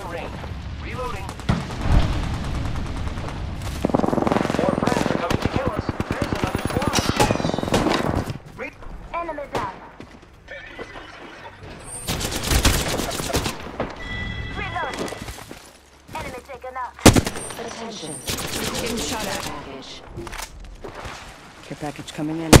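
Gunfire from a shooter video game, with bursts of rapid automatic shots and single cracks mixed with game effects and spoken lines running throughout.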